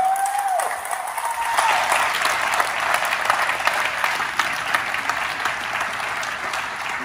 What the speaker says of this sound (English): I want an applause on that